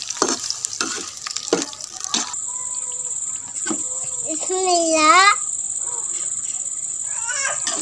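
Onions frying in hot oil in a pan and stirred with a spoon, a steady close sizzle running throughout with scraping pulses in the first seconds and a faint whistling tone partway through.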